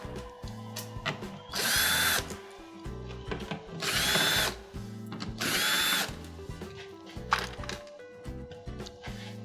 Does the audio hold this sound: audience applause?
no